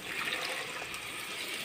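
Water pouring into a pan of masala, a short steady splashing rush heard close and fairly soft, with no talk.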